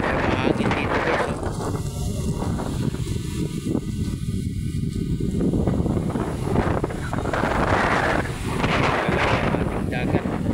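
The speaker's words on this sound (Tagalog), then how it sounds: "Kaya mahangin dito guys" Strong wind at Manila Bay buffets the microphone in a steady, loud roar that swells and eases for the whole stretch, with a voice faintly beneath it.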